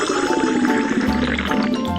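Water flowing and trickling through a toy water tank track, a steady close gurgling pour with small drips and splashes over two seconds, no speech.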